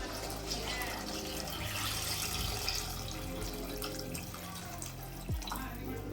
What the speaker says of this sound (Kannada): ನನಗೆ ಈಗ ನೀರು ಆ್ಯಡ್ ಮಾಡ್ಕೊತಿದ್ದೀನಿ